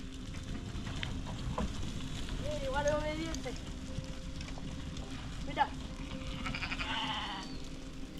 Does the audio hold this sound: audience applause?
no